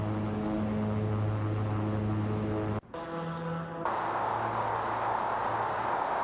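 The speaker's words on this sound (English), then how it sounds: "Let your plane accelerate." A King Air 350 turboprop in the X-Plane 12 flight simulator accelerates for takeoff, giving a loud steady engine drone with strong low tones that drops out briefly before the roar returns.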